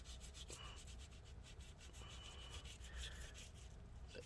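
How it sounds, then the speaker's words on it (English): Old thermal paste being rubbed off the heatsink of a 15-inch Retina MacBook Pro A1398, a quiet steady rubbing scrub with soft repeated strokes, faint and close with no talking. "just rub the thermal paste off"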